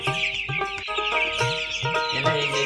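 Several chickens cluck repeatedly in short overlapping bursts, close by, over a steady background of other fowl noise.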